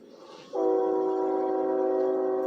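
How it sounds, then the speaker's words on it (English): Train horn sounding loud and steady after a brief rumble of the approaching train, a sustained multi-tone blast held to the end. "You hear that train? You hear it?"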